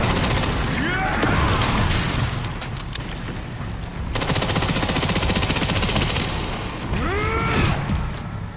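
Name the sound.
gunfire from the video game Resident Evil Requiem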